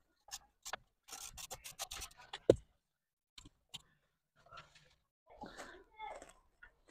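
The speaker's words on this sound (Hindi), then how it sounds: "अब यहाँ से हम इसका एक नट खोलने वाले हैं" Metal clicks and scraping rubs as a heavy nut is worked loose inside a Maruti Suzuki Ertiga during a GPS tracker installation. Short, irregular bursts come close by, with a sharp knock midway and a muffled voice near the end.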